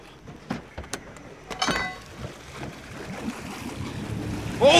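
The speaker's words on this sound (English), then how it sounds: "The exhaust underwater." Truck exhaust burbling underwater during a deep-water truck rescue, heard as irregular bubbling bursts and splashes at close range, building into a louder continuous gurgle toward the end.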